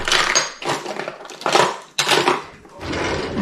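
A spoon stirs sourdough starter in a container, close and fairly loud, making repeated scraping clinks and knocks in four or five strokes with brief gaps between them, with no talk.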